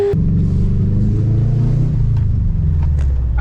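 A Subaru GC8 track car engine rumbles up close while driving at low revs, with a deep, steady drone that drops slightly as the gear changes.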